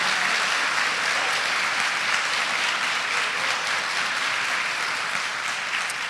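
A church congregation celebrating its 96th anniversary applauds, a dense, even wash of clapping from many people that holds steady throughout.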